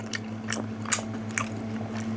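Crispy pan-fried frozen hotteok, a Korean sweet rice-flour pancake, is bitten and chewed close up, giving a few sharp crunchy bites over a low steady hum.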